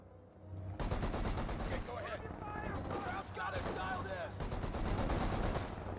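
Game gunfire from Company of Heroes 2, a sustained machine-gun barrage in a World War II battle, rattling loudly and continuously under a commentator's voice.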